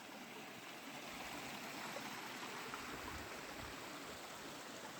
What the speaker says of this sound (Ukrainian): І там з іншого боку там теж спускається вода, там вона внизу